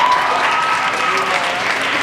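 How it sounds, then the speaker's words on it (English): An indoor audience claps steadily at an event, a loud, dense wash of applause sustained throughout without a break. "Can we get a big round of applause for both Brandon and Colin?"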